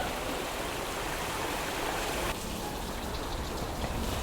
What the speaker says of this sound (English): The Old Mill Creek at the Apple Farm Inn.